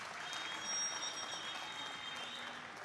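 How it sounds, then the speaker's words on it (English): An audience at an anti-corruption expo and games event applauds in a steady round of clapping, a dense even wash of claps that holds for about three seconds without voices. "So let's give him a thunderous round of applause."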